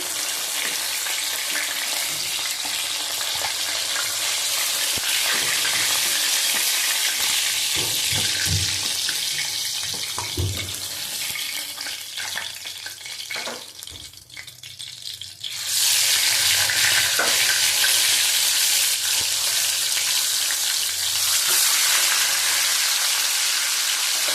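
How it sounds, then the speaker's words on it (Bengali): Bhetki fish frying in oil in a pan, giving a steady, loud, hissing sizzle that runs throughout, briefly softening in the middle before surging back strongly, with no talking. "দেখো, মাছটা তুলে নেবো, ভাজা হয়ে গেছে।"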